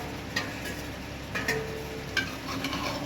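Fried potatoes being stirred into a sizzling Bengali-style chicken curry (chicken kosha), a low hiss of frying broken by a few soft clinks and scrapes of the spoon.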